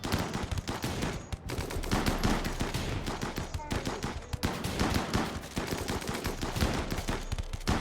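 Dense video game gunfire in a space shooter, continuous loud rapid bursts of automatic fire with close crashing shots, under occasional speech.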